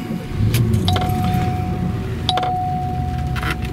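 A 1987 Cadillac Eldorado with the 4100 V8 starts and settles into a steady idle, loud and close, while a high electronic chime from the car rings out repeatedly over the engine.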